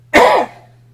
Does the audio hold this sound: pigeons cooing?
no